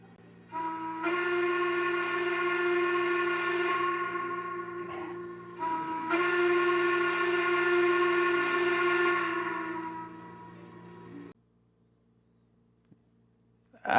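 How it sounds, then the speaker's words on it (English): A Lionel Lionmaster Class A model train's Legacy steam whistle sounds in two long chord-like blasts with a short gap between them, loud and close, then stops and leaves near silence. "And now let's play that Legacy whistle."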